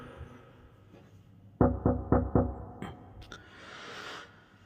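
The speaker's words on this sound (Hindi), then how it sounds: "जैसे ही मैंने प्रोफेसर अग्निहोत्री का केबिन का डोर खटखटाया" Four firm knocks on a professor's cabin door in a quick even rhythm, close and distinct, followed by a couple of lighter taps and a soft rustle.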